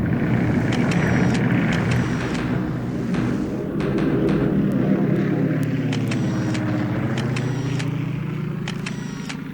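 Aircraft engines drone loudly and continuously through an air attack in the World War II naval strategy game War in the Pacific, with a steady roar and a pitch that shifts gradually, without talk.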